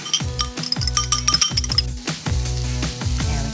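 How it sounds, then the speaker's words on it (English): Egg going into a pan of frying vegetables and quinoa for a fried-rice-style lunch, with a run of bright metallic clinks and taps of utensil against pan over a low sizzle, no talking. "it's time to add an egg."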